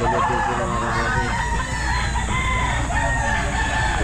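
A Kelso gamefowl stag crows amid the bustle of the Grotto pet market, its calls threading through a dense, loud wash of crowd noise and other fowl that continues throughout.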